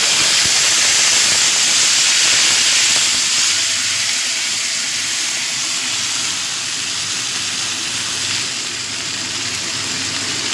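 Ground tomato, ginger and green chilli paste hitting a hot pan, giving a loud, steady broad hiss of sizzling that eases off slightly over several seconds, close by and with no voices.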